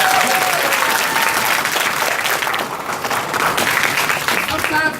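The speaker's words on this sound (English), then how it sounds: "If you believe that, clap your hands." Conference audience clapping loudly and continuously throughout, a dense steady wash of applause from a large crowd, with a few voices faintly mixed in.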